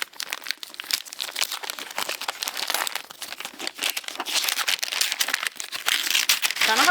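Taped-up wrapping paper being torn and crinkled off a hardback book, loud close rustling and ripping in irregular bursts that build toward the end.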